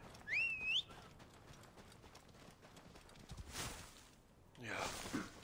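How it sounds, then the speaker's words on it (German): Horse hooves clip-clopping softly while riding in Assassin's Creed Origins, with a quick whistle at the start and a few faint galloping bursts further on, quiet and distant-sounding game audio. "ich werde mit meinem Pferd in die Richtung reiten."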